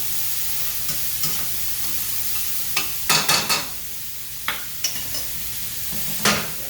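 Garlic and mushrooms sizzle in a pan beside a cooking ribeye, a constant soft hiss punctuated by a few sharp bursts of spattering and utensil scrapes, close and without talk.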